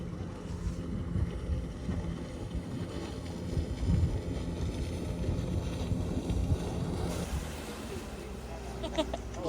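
Aluminum dinghy ride on open water: a steady broadband rush of hull, water and wind noise runs throughout, with low engine-like rumble and occasional louder swells, close to the microphone and without clear speech.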